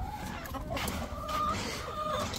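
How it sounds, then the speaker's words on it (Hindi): Several hens cluck continuously nearby, overlapping in a busy, steady chatter with occasional higher calls. "और अब खोलते हैं हम अपनी मुर्गियों को"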